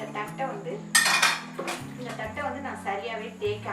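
Dishes and cutlery clatter and scrape as a plate is scrubbed during washing of greasy kitchen vessels, a steady close-up rubbing with a sharper burst of clinks partway through, under a continuous low hum.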